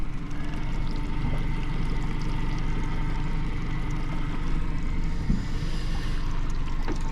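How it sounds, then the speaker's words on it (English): A second-hand Yamaha 100 fuel-injection outboard engine runs steadily on a UK fishing boat, its constant low drone loud and close with water and wind noise, with no voices. "So the old Honda carburetor engine has gone and been replaced by a second-hand Yamaha 100 fuel injection"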